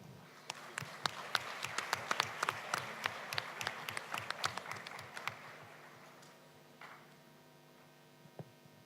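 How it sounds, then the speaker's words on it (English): Scattered applause from an audience at a formal session, sharp claps thinning out over several seconds before fading to a low hum of the room. "Please give them a round of the applause"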